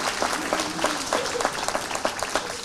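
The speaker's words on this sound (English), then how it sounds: "Someone give Jesus a clap." Church congregation at a revival service clapping together, sharp irregular claps close by with a few voices mixed in.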